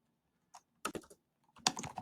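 Keys clack on a computer keyboard while a message is typed: short irregular bursts of close, crisp tapping separated by brief pauses, with no talking.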